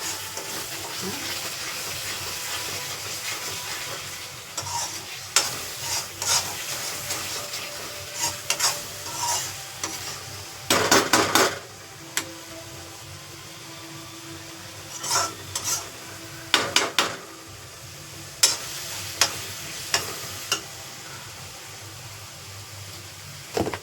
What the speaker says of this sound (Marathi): चांगलं तेल सुटस्तवर आपण त्याला भाजूया